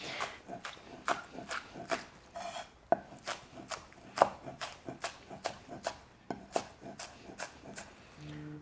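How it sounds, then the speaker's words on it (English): A knife minces green onion on a cutting board in steady, measured strokes, with repeated close knocks at an even, moderate rhythm and short pauses in between, and no voices. "once your green onion is minced, let's go ahead and put that into our aromatics bowl with our ginger"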